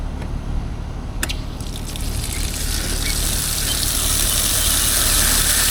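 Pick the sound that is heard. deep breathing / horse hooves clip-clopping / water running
water running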